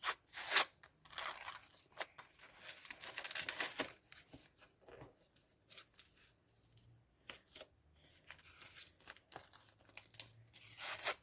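Crisp paper tearing and crinkling in close bursts as a small packet is opened, with quiet pauses between the rustles.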